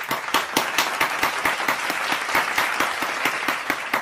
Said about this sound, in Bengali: তো এই চারজন প্রতিযোগিতার জন্য জোরে একবার হাততালি হয়ে যাক।